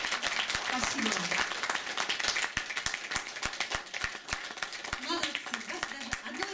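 A concert audience claps steadily at a Christmastide show, a dense warm wash of many hands with a few sharper single claps standing out, and voices talking over the applause.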